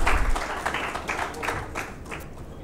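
Audience clapping at a business chamber function honoring jury members, a dense burst of applause that starts loud and gradually thins and fades over a few seconds.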